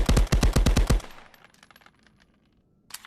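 An MP 40 submachine gun in the Guns of Tabor video game fires a rapid burst of about eight loud shots until empty, then a faint mechanical rattle and a sharp click at the end.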